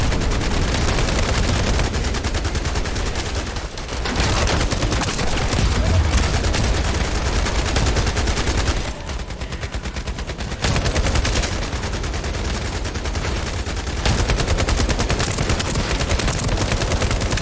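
Sustained, rapid automatic gunfire from the sci-fi shooter The First Descendant runs loud and dense almost without pause, with only short dips in intensity.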